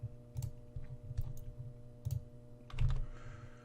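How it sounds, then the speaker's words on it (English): Rapid key presses on a calculator keypad as numbers are entered, a quick irregular run of close, crisp clicks with brief pauses between bursts, no voices. "So I'm going to type that stuff into my calculator."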